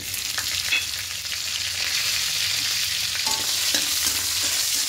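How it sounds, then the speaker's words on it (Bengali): Asafoetida, five-spice and dry and green chillies frying in hot oil, giving a steady dense sizzle with light stirring clinks, close and continuous with no talk. "দিয়ে হালকা একটু ভেজে নেব।"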